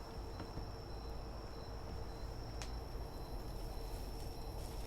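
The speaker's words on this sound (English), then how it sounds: "You can still hear the crickets softly chirping in the background." Soft, steady insect chirping of crickets on a quiet night in the medieval survival game Medieval Dynasty, a continuous faint background drone with a brief click partway through.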